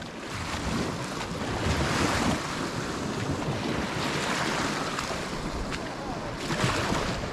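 Muddy waves churned up by passing boat engines wash through a small lake bay in Utah, a continuous rushing surf with wind buffeting the microphone and a distant engine hum underneath.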